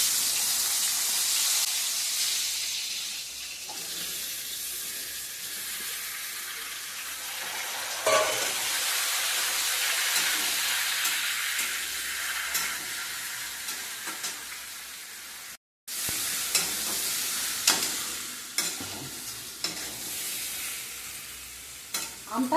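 Sun-dried raw mango pieces fry in hot oil with dry red chillies and five-spice seeds for a mango pickle, giving a steady, close sizzle with stirring scrapes and a brief cut partway through.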